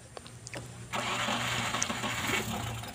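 A car engine cranks briefly and catches, then settles into a steady rough idle right after its air filter was replaced, loud and close with no talk over it.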